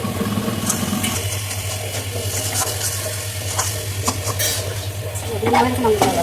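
Taro stolons (kochur loti) stirred and fried in a pan, a steady close sizzle with scraping of a utensil against the pan and occasional clinks, over a low continuous hum.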